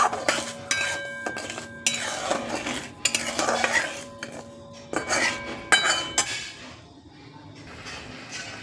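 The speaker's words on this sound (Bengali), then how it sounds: "চিনি দিয়ে আর একটু নাড়াচাড়া করবো" Amla pickle being stirred with sugar in a metal pot, with repeated close scraping and clinking of a spoon against the pot in uneven bursts, loud and busy, then briefly quieter near the end, with no voices.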